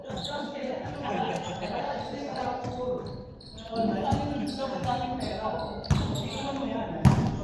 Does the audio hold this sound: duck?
no